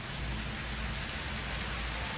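Steady rain in the video game Satisfactory, a dense, even hiss with a low rumbling bed, continuous and fairly close with no talking.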